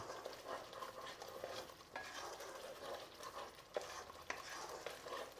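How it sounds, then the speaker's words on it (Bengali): Red chili powder and salt being stirred in a pan while cooking cashew chicken, with a steady sizzle of frying and scraping spoon strokes against the pan, close and continuous with no talk. "এইবার আমি এটাকে বেশ করে নাড়াচাড়া করব।"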